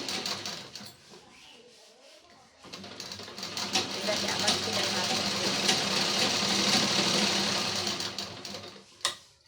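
A sewing machine runs a double seam on a homemade shopping bag, starting after a short pause and whirring steadily at close range, with a person talking over it.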